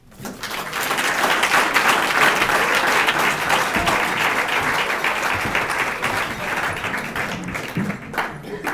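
Loud, sustained applause from a sizable crowd at a scholarship reception, a dense wash of clapping that swells quickly and continues steadily before thinning slightly at the end.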